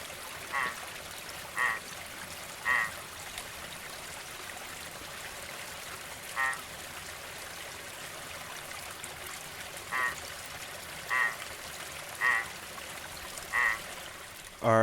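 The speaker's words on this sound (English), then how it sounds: "here's the call of Plectrohyla dasypus." A Plectrohyla dasypus frog calls in short, evenly spaced notes, repeated roughly every second or so, heard moderately close over a steady background of running stream water.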